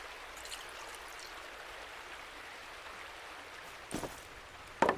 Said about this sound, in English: First I'm going to collect some water.